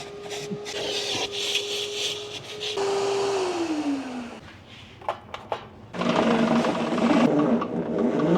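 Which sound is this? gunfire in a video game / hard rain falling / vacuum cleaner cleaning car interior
vacuum cleaner cleaning car interior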